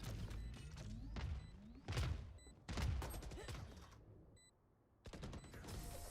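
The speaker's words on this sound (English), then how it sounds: "All missiles away." Missile launches in a combat video game: a rapid series of heavy whooshing blasts and thuds in irregular bursts, a short lull near the end, then another loud burst.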